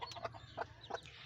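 A hen with twelve chicks hatched the day before gives soft clucks and small calls in a quick irregular run, close but faint, in a henhouse on a rainy day.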